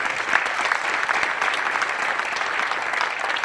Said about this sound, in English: I'd like to give Coach Forbes a round of applause for all that he's done for this program